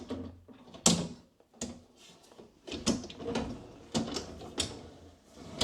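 An IKEA Aurdal closet drawer slides in on its wheels, giving a run of quiet clunks, scrapes and rolling knocks in uneven bursts, close by and with no talk.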